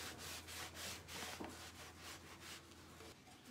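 Cloth rubbing wax across a clear-coated chalk-painted surface, a steady close-up scrubbing with rhythmic back-and-forth strokes throughout, no talk.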